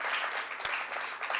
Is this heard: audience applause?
yes